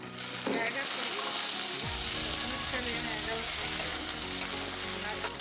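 Green chillies hit hot oil alongside roasted peanuts in a pan for coconut peanut chutney, a sudden burst of sizzling that settles into a steady, loud crackling fry with occasional stirring.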